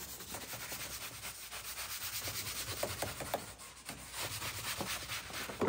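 Scrub Ninja pad scrubbing old vehicle interior trim, a close, continuous rhythmic rubbing and scratching at low level, with repeated back-and-forth strokes.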